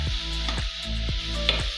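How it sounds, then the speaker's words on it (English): Seasoning cube and curry stirred into a sizzling pan for plantain pizza topping, a steady frying hiss with rhythmic scrapes of the spoon every half second or so, close and alone. "adding my seasoning cube, and I'm going to be adding curry into it. And I'm going to stir."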